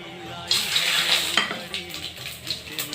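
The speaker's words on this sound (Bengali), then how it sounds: "এরপর ফোড়ন দেবো তেজপাতা, দারচিনি, এলাচ, লবঙ্গ, সাদা জিরে আর 2টো শুকনো লঙ্কা" Whole spices — bay leaf, cinnamon, cardamom, cloves, cumin and two dried red chillies — hit hot oil with a sudden loud sizzle and crackle, settling into steady spitting with a few utensil stirs and clinks.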